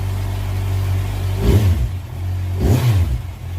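A Kawasaki Z1000 fitted with an SC Project carbon conic exhaust idles, then blips its throttle twice in quick, loud revs that rise and fall back to a burbling idle.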